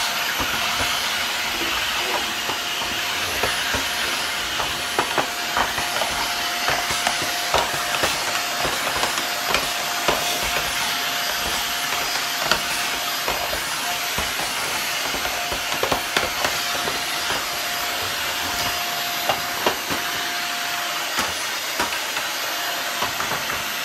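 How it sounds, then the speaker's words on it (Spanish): A vacuum cleaner runs continuously while cleaning out drawers during household tidying, a loud steady hiss and whine with scattered bumps and knocks of the nozzle against wood. "Voy a pasarle la aspiradora"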